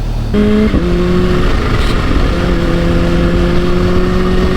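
A Kawasaki H2 motorcycle engine runs loud and close, holding a steady drone with a brief rise in pitch near the start and no voices.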